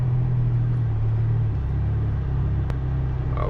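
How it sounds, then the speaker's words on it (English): A heavy 80K truck passes in a shop yard, a loud low engine rumble that shifts in pitch midway and stays steady throughout, with no talking. "It goes that sweet 80K truck."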